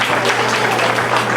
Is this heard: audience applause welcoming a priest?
yes